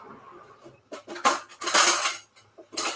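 Butter going into a saucepan heating on the stove, with a few loud close clanks and scrapes of metal utensil against the pan in short bursts and no talking.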